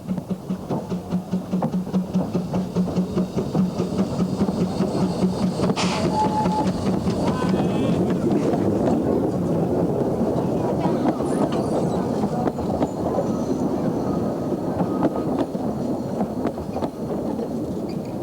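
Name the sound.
narrow gauge train at Devil's Bridge terminus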